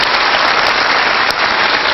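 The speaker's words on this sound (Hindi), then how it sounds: "पिताजी के लिए जोरदार तालियां जरूर होनी चाहिए" Loud, dense audience applause fills the whole stretch, a steady close wash of clapping from a large crowd without a break and with no voices over it.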